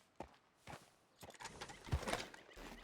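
A horse in Red Dead Redemption 2 clip-clops with scattered hoof steps, then gives a brief low snort or whinny. The sounds are moderately close and quiet, with no talking.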